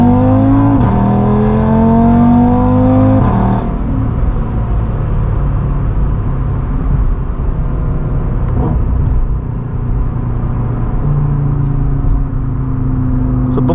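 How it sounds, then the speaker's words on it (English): A stage 2 tuned Audi RS3, tuned by ECC Tune, downshifts to second and accelerates hard, its engine note climbing loud and close before dropping into a steady, rumbling roar for the rest of the run. "downshift to second"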